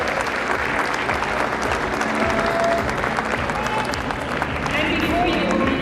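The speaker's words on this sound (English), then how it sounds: "let's give them one last round of applause" Sustained audience applause for award recipients at a university sports colours and awards ceremony, a dense, even roar of clapping from a large crowd in a hall with a faint murmur beneath.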